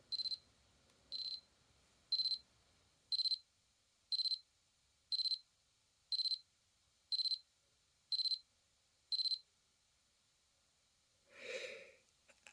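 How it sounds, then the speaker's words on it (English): A vintage Seiko digital watch alarm beeps high-pitched about ten times in a steady one-per-second rhythm, close and clear, followed by a brief breathy snort after a pause. "Here's the alarm. Are you ready? Nice. That's a lovely alarm."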